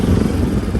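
A motorcycle engine runs close by on a wedding-day ride, a short burst of steady, rumbling mid-pitched drone with a slight clatter and no talk over it.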